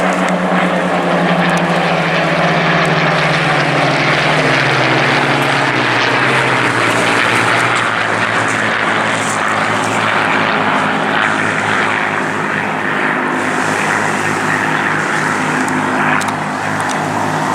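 A Spitfire flies past at an air display, its propeller engine a loud sustained drone whose pitch slides downward as it passes, holding a thick roar with no talk.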